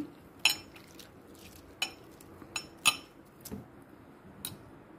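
A spoon clinks and scrapes against a steel bowl while mashed rice is stirred with milk, sparse sharp taps spaced irregularly over quiet room tone, close and fairly soft.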